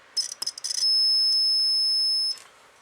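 Multimeter continuity beep while testing a homemade RF dummy load: a few quick clicks and taps, then one steady high-pitched tone held for about one and a half seconds, close and clear.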